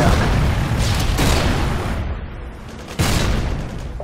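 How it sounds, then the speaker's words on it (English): A Predator missile strike in Modern Warfare 2 gameplay: a loud, dense explosive rumble with bursts of gunfire that dips briefly, then a second sharp blast kicks in and the roar continues. "Friendly Predator missile inbound."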